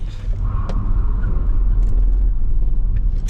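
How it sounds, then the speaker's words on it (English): A Zeekr 001 FR high-performance electric car launches hard, spinning its front tires all the way, making a loud, close, sustained low rumble with some road and tire noise, heard from inside with no talking. "Just spun the front tires the whole way"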